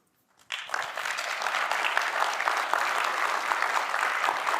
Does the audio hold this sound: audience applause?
yes